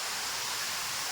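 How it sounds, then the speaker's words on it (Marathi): Steady broadband rush of the Ukshi Ranpat waterfall in Konkan during the monsoon, an even roar of falling water with no breaks or other sounds. "हाच आहे तो आपला कोकण रेल्वेच्या खिडकीतून दिसणारा आणि इतका व्हायरल झालेला रानपाटोपी धबधबा"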